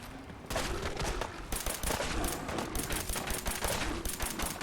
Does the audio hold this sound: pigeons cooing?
no